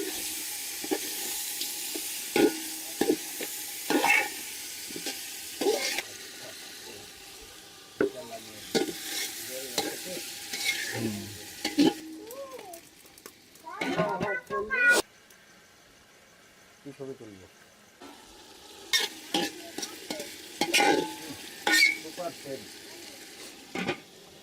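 Chicken pieces frying and being stirred into cooked-down spiced masala in a pot for village-style vegetable khichuri, with scraping stirs and sizzling throughout, a cat meowing at moments and brief talk.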